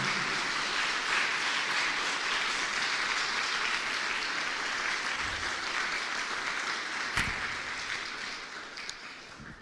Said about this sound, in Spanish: Le damos un fuerte aplauso al Señor Jesús.